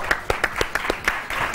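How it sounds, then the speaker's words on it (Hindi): An audience on a TV Iftar transmission show claps for a round winner, a brief burst of scattered, distinct handclaps in an uneven rhythm, close and fairly loud. "तालियां तालियां तालियां"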